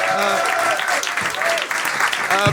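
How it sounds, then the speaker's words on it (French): Audience applause for comedian Urbain at a Paris comedy club, a steady, dense wash of clapping throughout with a few voices calling out over it. "Est-ce qu'on peut applaudir Urbain, s'il vous plaît?"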